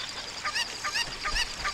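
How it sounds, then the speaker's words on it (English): Repeated squawking honks from a chicken in The Legend of Zelda: Ocarina of Time, four short cries in a loose rhythm over faint low background noise, loud and close. "Put down the chicken."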